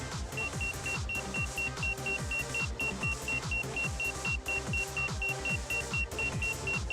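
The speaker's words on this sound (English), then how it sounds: "you get a warning message on the screen and you hear a beeping warning" An Autel Evo drone's obstacle warning beeps regularly, a steady high tone pulsing in short repeated bursts, set against a constant mechanical hum and rhythmic low thumps.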